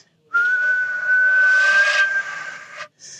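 Human whistling, a single sustained clear tone held for about two and a half seconds, close and fairly loud, with a brief extra burst at the end.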